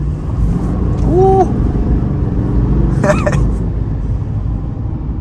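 A 2024 Chevrolet Silverado 3500HD LT with the Duramax diesel pulls away with a steady low engine rumble under cabin noise, fairly loud throughout, while a person briefly exclaims.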